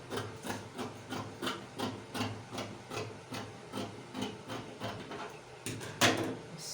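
Scissors cut through organza fabric in a steady series of soft, rhythmic snips close up, ending in one louder rustle.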